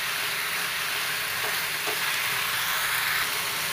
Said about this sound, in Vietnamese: Tiếp tục xào cho cái tàu hũ kia cộng tươi thấm gia vị và chín chừng 2 đến 3 phút là được